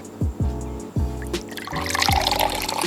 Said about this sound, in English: You're going to pour the liquid into the Ziploc bag.